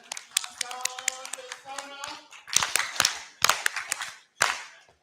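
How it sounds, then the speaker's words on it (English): Short bursts of clapping from a small group at an official health evaluation meeting in Uganda, scattered sharp hand claps in uneven clusters, with a voice audible in places between the claps. "Can we clap for them?"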